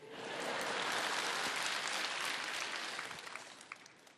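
A church revival-service audience breaks into sustained applause, a dense wash of many clapping hands that swells quickly, holds for several seconds and then thins out.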